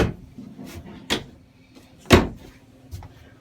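Drawers slide open and shut inside a 2022 Forest River Wildwood 169RSK travel trailer: several close wooden knocks and thuds at uneven intervals, one louder slam midway, in a quiet interior without talking.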